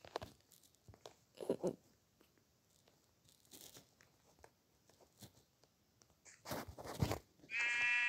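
Sheep bleat in the Minecraft video game amid soft clicks and scattered blocky game effects, with a louder burst and a steady tone near the end.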